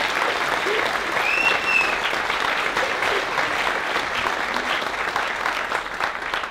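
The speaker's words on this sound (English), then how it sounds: "Let's give Gwen a round of applause." Steady, dense applause from an audience at a Tulip Time town crier event on stage. The clapping holds at an even level throughout, with a faint whistle early on.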